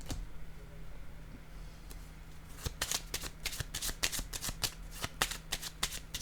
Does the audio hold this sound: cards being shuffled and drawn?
yes